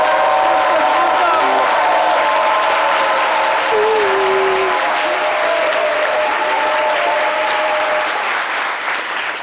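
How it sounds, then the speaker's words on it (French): Loud, dense applause from a large crowd continues steadily, with scattered cheers and a few tonal sounds mixed in, fading slightly toward the end. "Tonnerre d'applaudissements."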